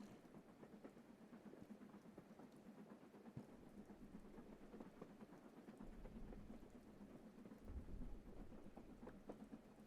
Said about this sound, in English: maybe I need the rain to stop